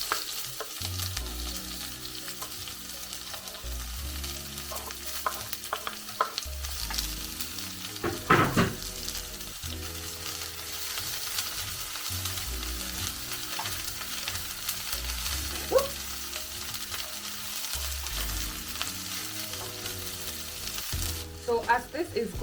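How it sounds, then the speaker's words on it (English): Onions and garlic sizzle steadily in hot oil in a pan, with occasional stirring clatters and scrapes, close by and continuous throughout. "Now that the oil has heated up, let's add the onions and the garlic."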